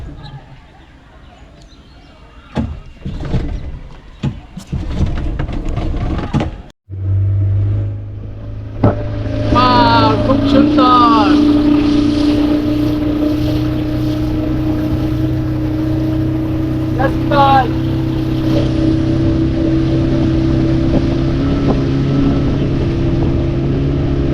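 A motorboat engine on a river trip cuts out, then restarts and settles into a loud, steady drone. Wind buffets the microphone and brief voices come through now and then.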